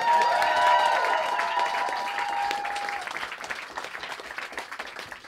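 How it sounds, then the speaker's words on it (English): An audience at a science slam event applauds warmly, the crowd's clapping loud at first under a sustained musical tone, then fading to lighter scattered claps. "thank you very much for the applause"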